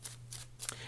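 Tarot cards are shuffled by hand in three quick, crisp riffling bursts close up, under a faint steady hum with no talking.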